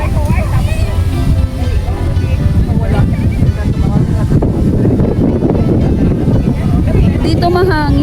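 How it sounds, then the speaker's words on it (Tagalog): Strong wind buffets the microphone at an outdoor flower park in Silang, Cavite, making a constant heavy roar under people talking nearby. "Dito mahangin, no?"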